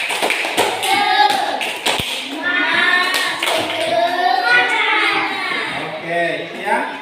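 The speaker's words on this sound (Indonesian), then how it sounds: "Kita tepuk semangat dulu. Tepuk semangat." A school class claps along to a rhythmic spirit chant, with quick patterned hand claps mixed into loud children's voices chanting and calling out together.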